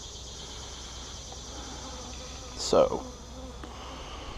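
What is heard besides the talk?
honeybees buzzing during a new hive inspection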